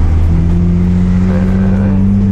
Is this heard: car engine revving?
yes